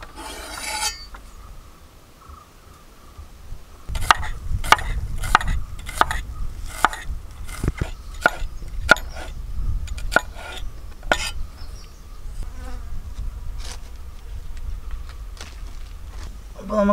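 A knife slicing tender coconut into long pieces, heard as a string of crisp, evenly spaced cuts against a board, about a dozen strokes at close range, with a faint hum and quiet handling sounds between them.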